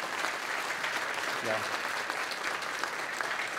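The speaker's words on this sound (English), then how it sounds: "So let's give a round of applause for our new dean," Steady applause from an audience at a Hall of Honor ceremony greeting the new dean, dense and even clapping filling the room throughout, with a brief voice heard in the middle.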